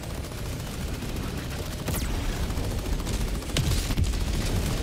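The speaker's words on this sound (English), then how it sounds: "Calling in orbital strike." Orbital strike explosions in Helldivers 2, a dense, continuous rumbling barrage of blasts with sharper cracks standing out, loud and sustained throughout.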